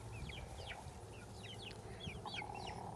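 Backyard flock of chickens, chicks and some young roosters clucking and chirping in repeated short calls, quiet and somewhat distant over a low background hum, without speech.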